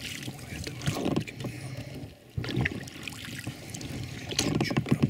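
Oars dip and splash in water as a boat is rowed, in a slow, irregular rhythm, with soft trickles and a brief lull midway, close by and moderately loud.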